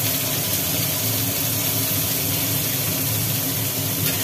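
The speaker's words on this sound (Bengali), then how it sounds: "তেলটা গরম হয়ে গেছে, তেলের মধ্যে পড়লো" Bitter gourd fries in hot oil, a loud, dense, steady sizzling hiss heard up close and unbroken for several seconds.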